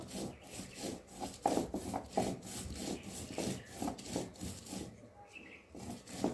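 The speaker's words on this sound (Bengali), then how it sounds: "আর এই যে এখন কপির পাতাগুলোর সাথে অল্প অল্প করে বেটে নেব।" Kohlrabi leaves being ground with chilli, cumin and salt on a grinding stone: close, rhythmic rasping strokes of stone on stone, repeating steadily and pausing briefly near the end.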